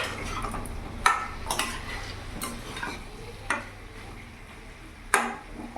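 Chopped tomatoes are stirred into a pan of jackfruit and prawns with fried potatoes, giving a soft sizzle under scattered spatula clinks against the pan, several sharp taps spaced a second or so apart.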